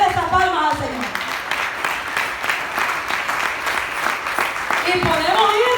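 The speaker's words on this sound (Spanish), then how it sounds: "Denle esas palmas al Señor" A congregation in a church claps along with spirited applause that runs steadily throughout, with a voice speaking over it.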